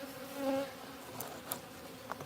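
Honeybees buzz during a honey harvest as the insects pile up, a brief louder hum swelling early then fading to a faint drone with a few small clicks.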